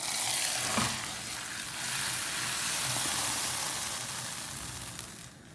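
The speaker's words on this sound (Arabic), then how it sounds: "هلأ رح أضيف تقلاية التومة" Fried garlic hits a pot of boiling bissara with a loud burst of sizzling that settles into a steady bubbling hiss, close by and alone.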